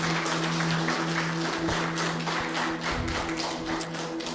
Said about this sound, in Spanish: Fuerte aplauso al Señor.